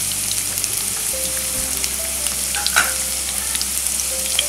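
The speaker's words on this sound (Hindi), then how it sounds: "उसके बाद मैं कटी हुई प्याज डाल देती हूँ।" Chopped onions and ginger sizzle steadily in hot oil in a pan, cooking for chole masala, a close, even frying crackle with faint stirring and no talk.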